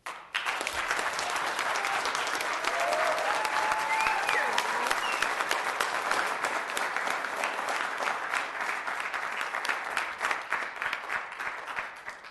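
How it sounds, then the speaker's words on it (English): Steady, dense clapping from an audience at a city council meeting, continuous and fairly loud for about twelve seconds with little talk over it. "Please refrain from clapping because it's taking away the time for the next person"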